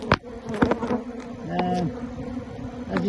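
Aggressive honey bees buzz around an open hive, close droning hums that rise and dip as individual bees pass near, with a few knocks and handling sounds mixed in.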